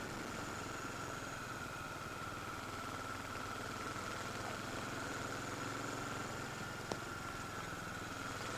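Engine and exhaust of a Spitfire car cruising uphill past big houses, a steady mid-pitched drone heard from on board at constant level, with no talk.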